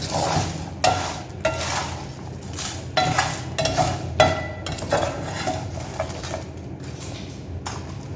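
Cumin and fennel seeds are stirred as they roast in a hot pan for garam masala powder, a spoon scraping and clinking against the metal in irregular close strokes over a faint sizzle.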